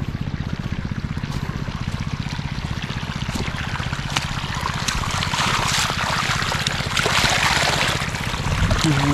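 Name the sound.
strong flow of irrigation water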